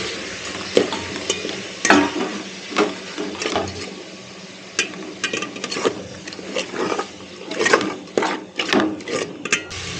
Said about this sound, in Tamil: இப்போ தக்காளி இது கூட போட்டு நம்ம வணக்கிடலாம்